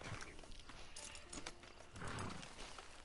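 Hooves of a horse in Red Dead Redemption 2 patter amid a dense, noisy game mix, with a faint whinny-like tone; the steps stay fairly close and continuous for a few seconds.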